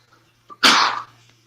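A single sharp sneeze bursts out close to the microphone in a quiet room, preceded by a brief intake of breath and trailing off in under half a second.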